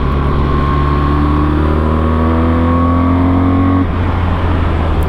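A Honda Africa Twin motorcycle with DCT riding by, a loud continuous engine drone with shifting harmonic tones that drop sharply near the end, heard close and steady.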